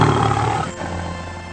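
A lion's roar rumbles loud and close for about half a second, then fades into a lower, rough growling tail.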